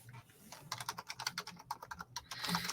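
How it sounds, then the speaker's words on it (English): Computer keyboard typing at a podcast desk, a quick run of light, fairly steady key clicks close to the microphone, with no talking over it. "typing on a keyboard"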